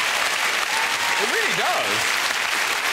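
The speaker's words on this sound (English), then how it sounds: "that deserves a round of applause" Studio audience at The Graham Norton Show breaks into loud, continuous clapping for a long-married couple, steady throughout while a voice speaks briefly over it.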